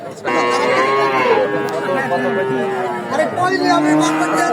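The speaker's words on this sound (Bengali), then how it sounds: "গরুর আমদানি কেমন দেখা যাচ্ছে এখন" Cattle at a livestock market low loudly and close by in long, drawn-out moos, with crowd chatter and market noise beneath them.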